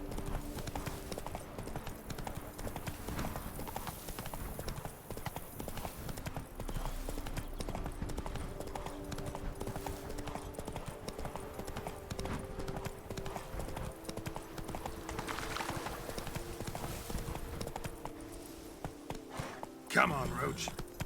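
Roach, the horse from The Witcher 3: Blood and Wine, keeps up a steady rhythmic clip-clop of hooves for about twenty seconds, close and even, with a short neigh near the end and game ambience and a voice underneath.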